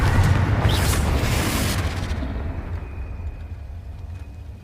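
A fiery Confringo spell blast in Hogwarts Legacy lands as a deep, loud boom with a bright crackle, then rumbles and slowly fades into a long low tail.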